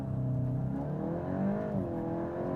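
A VW Golf GTI Edition 50 engine pulls hard at around 4000 rpm, a close, steady drone that rises smoothly in pitch as the car accelerates, with no talking.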